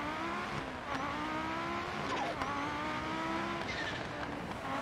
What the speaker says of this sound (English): The menacing sound of Quattro and nearly 50 FPS was a great combo.